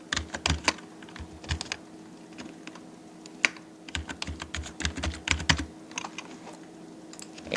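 Rapid, irregular keystrokes on a computer keyboard while lettering a business card design, close and clear with short pauses between bursts of clicks.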